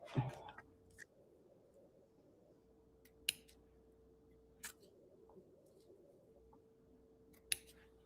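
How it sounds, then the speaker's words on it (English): Scissors trimming a paper-craft bow in a quiet room, four or five faint, sharp snips spaced a second or more apart. "I'm going to trim it off a little bit."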